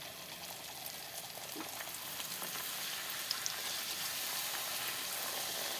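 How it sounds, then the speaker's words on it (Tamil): Puri made from moong dal dough frying in hot oil, a steady close sizzle and bubbling that runs evenly throughout with no talk. "இப்போ பார்த்தீங்கன்னா ரெண்டு பக்கமும் நல்லா நமக்கு வந்து பொறிஞ்சு வந்துருச்சு"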